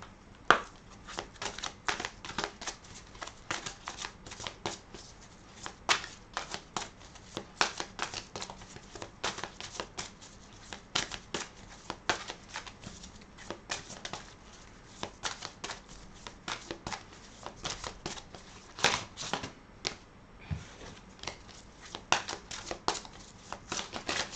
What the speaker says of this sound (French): on va tirer quelques cartes du voyageur sacré